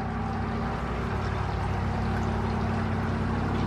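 Creek water flowing under the Goddard Covered Bridge in Hillsboro, Kentucky, a steady broadband rushing murmur that holds even and continuous throughout, with no talk.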